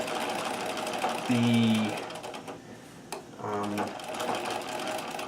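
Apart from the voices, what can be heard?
Singer 237 sewing machine stitching, bobbin noise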